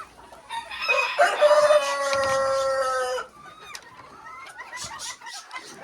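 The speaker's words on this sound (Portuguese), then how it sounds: "E aí eu trouxe esse galo carijó aqui, lá da casa da minha tia." A carijó rooster crows once, loud and close, a long drawn-out call followed by softer clucking and farmyard sounds.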